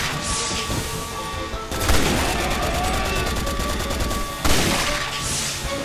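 Rapid gunfire in the video game Resident Evil 6, loud rattling bursts of shots with booming impacts layered over continuous game noise, dense and close.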